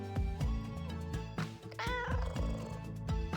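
A cat meows in the Choices: Stories You Play game Kindred, a short rising-and-falling cry heard midway through over steady background music.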